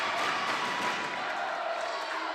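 Crowd cheering for the Eagles in a school gym during a third-place volleyball match: a steady, distant wash of voices and claps fills the hall without pause.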